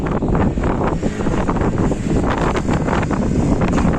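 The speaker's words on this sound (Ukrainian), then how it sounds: "Вітер тут страшенний." Strong wind in Mindelo buffets the microphone in a steady, loud roar, with gusty low rumble and rustling filling the whole stretch.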